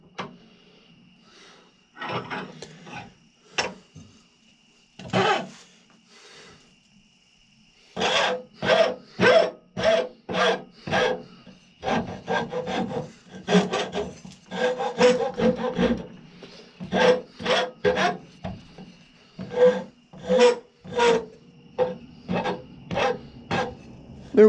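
Rasp strokes rounding the top corners of a wooden tomahawk handle, a series of sharp, rhythmic scraping bursts, close and loud, coming in quick runs with short pauses.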